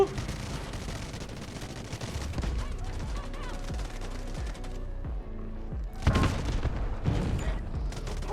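Gunfire and a tank explosion in the Delta Force video game: dense, rapid bursts of shooting throughout, a heavy boom near the end, and players' voices talking over the fight.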